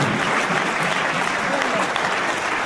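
A church congregation breaks into loud, sustained applause acclaiming Jesus, a dense steady roar of many clapping hands that carries on without pause throughout.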